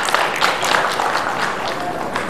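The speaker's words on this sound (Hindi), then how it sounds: "आपकी तालियां चाहिए" A conference audience at an Urdu editors' gathering in Hyderabad, India, breaking into loud, dense applause, a continuous wash of many hands clapping close by that carries through the whole moment.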